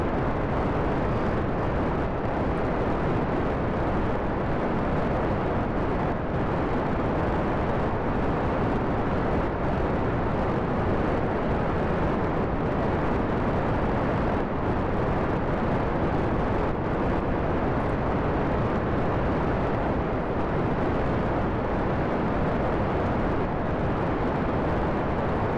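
Rocket engines roaring at lift-off in Kerbal Space Program, a loud, dense, unbroken rumble that fills the whole stretch without pause.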